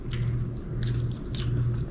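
Someone biting and chewing birthday cake close to the microphone, soft wet squishy mouth sounds repeating in an irregular rhythm over a low background hum.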